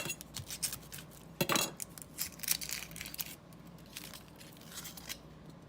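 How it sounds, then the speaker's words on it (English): A knife slicing through an onion on a cutting board, a string of crisp, close chopping taps and scrapes, irregular and fairly quiet, with no talk. "I'm going to cut this one just to show y'all how I cut the onions up"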